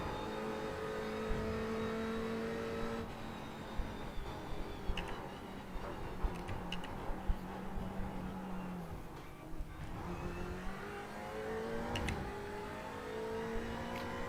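Race car engine in iRacing at Bathurst, a steady in-car drone that rises and falls through gear changes and braking across a lap, with brief shifts and bumps heard alone.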